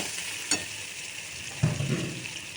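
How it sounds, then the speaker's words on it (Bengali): Sliced onion fries lightly in oil and fish fat in a pan, giving a steady close sizzle with a couple of brief stirring scrapes and no talking. "সেটা আমি পেঁয়াজটা হালকা করে ভেজে"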